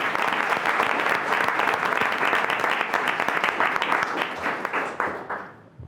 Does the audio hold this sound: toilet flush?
no